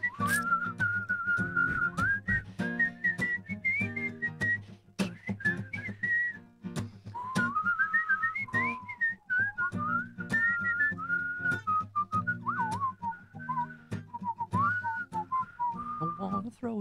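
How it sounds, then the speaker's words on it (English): A person whistles a bright, wavering melody as a musical interlude, steady and close, accompanied by a regular plucked or strummed beat with sharp rhythmic clicks throughout. "Can we do like a whistling interlude?"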